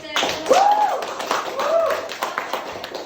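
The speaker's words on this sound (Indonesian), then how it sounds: "sekarang kita silakan beri aplaus untuk" A classroom audience claps for a class project presentation: a burst of hand clapping from several people that stays steady for about three seconds, mixed with voices talking over it.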